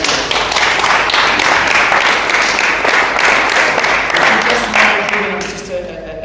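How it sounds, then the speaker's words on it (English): Attendees at a community disaster-response meeting applaud a guest, producing a fairly loud, dense run of clapping that fades out over the last second as a voice comes in. "can we all give him a round of applause for what he's done?"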